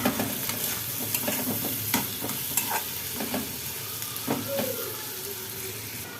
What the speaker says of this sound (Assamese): এতিয়া এইখিনি ভালকৈ লৰাই বিলাহীখিনি সিজালৈকে অলপ সময় ভাজি থাকিম।